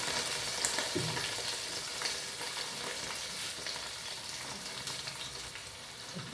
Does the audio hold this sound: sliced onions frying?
yes